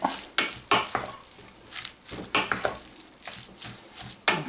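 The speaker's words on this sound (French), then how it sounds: "Là encore, on mélange." Poultry terrine ingredients with tarragon are stirred together in a bowl, giving close, uneven bursts of scraping and clinking at an irregular rhythm, with no talking.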